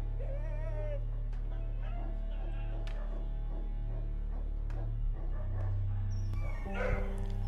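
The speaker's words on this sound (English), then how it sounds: "This dog, who tried to run and hide earlier, now cowers and howls in anguish" A dog at a slaughterhouse howls and whimpers in fear with drawn-out, wavering cries and yelps close by, and a steady low hum runs underneath.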